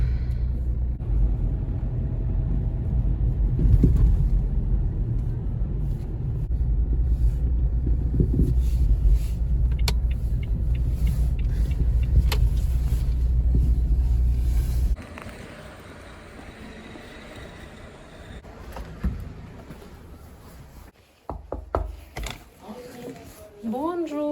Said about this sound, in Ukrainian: вже в автівці, я вже їду